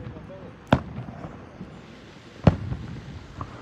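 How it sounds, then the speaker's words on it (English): Two sharp, distant firework bangs from a fireworks show go off about two seconds apart, with a faint third pop, against an outdoor background murmur. "I think over there is a fireworks show"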